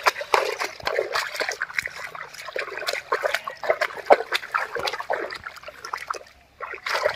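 Pond water splashes and sloshes in repeated uneven bursts as someone bathes outdoors, with close, lively splatters and trickles throughout and a brief lull near the end.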